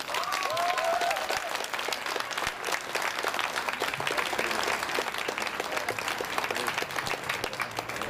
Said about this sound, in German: ich würde Sie bitten, einmal einen ganz kurzen kleinen Applaus